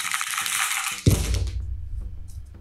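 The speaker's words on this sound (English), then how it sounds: "let's roll the dice and decide who will go first" Dice rolled on a table for a Flesh and Blood card game: a bright clattering rattle, then a sharp knock and a short tumbling roll that settles into quiet.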